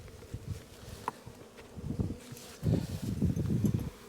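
Honeybees buzzing around an open hive being equalized, the queen on the bottom box: a steady low insect drone with scattered rustling, growing louder and denser in the second half, heard close with no talk.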